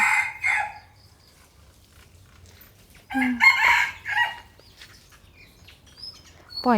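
Chickens cluck in short bursts, then a rooster crows loudly near the middle, with a faint chirp and another rising crow at the end.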